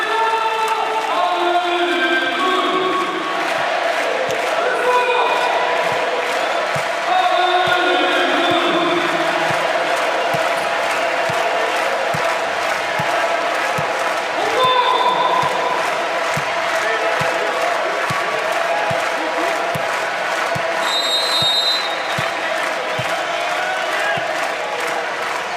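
Volleyball arena crowd during a Volleyball Nations League 2018 final between France and Brazil, roaring and cheering steadily throughout, dense and loud, with an announcer talking over it.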